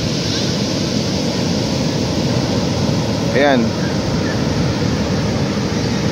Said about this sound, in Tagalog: kita nyo naman yung alon, no?